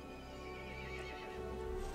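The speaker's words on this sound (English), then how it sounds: "The horse grew angry and summoned the other monsters." In the video game Resident Evil Village, a horse neighs in a drawn-out whinny amid clip-clopping hooves and a low, dark ambient drone.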